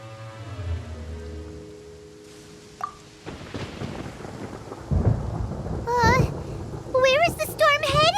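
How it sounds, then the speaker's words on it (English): Thunderstorm in the Genshin Impact video game: a low rumble fading out, then a sharp thunder crack and heavy rolling thunder over steady rain, with swooping high tones near the end. "Where is the storm headed?"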